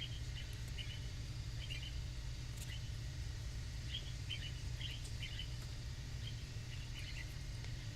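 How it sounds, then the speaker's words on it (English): Pet birds chirp indoors in a craft room, short bright twittering bursts in clusters that come and go over a steady low background hum, moderately faint and with no talking. "Sounds like you can hear my birds."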